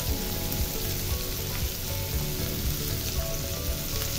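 Chopped onion hits the hot oil left in a pan after frying fish, giving a loud, continuous sizzle with crackling spatter and no voices.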